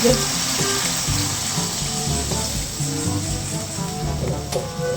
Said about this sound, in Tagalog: Maglalagay na po ako ng tubig.